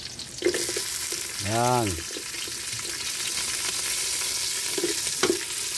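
Onions sauté in a hot pan for pork adobo, giving a constant close sizzle with occasional stirring scrapes. A brief voice is heard partway through.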